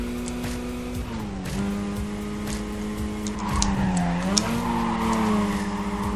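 A Mazda RX-8 corners in the Need for Speed Carbon racing game. A steady engine drone dips and recovers through the turns, with scraping tire noise and faint squeal mixed in, all at a constant moderate level.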